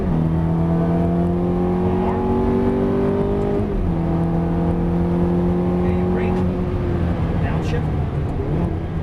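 A Ferrari F430 engine accelerates on a race track, its sustained loud tone climbing steadily in pitch, dropping at a shift, then rising again, while an instructor talks throughout.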